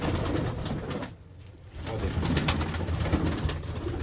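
Pigeons coo in low, throaty rolling calls that repeat steadily, with a brief lull partway through before the cooing resumes.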